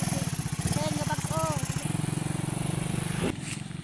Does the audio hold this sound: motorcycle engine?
yes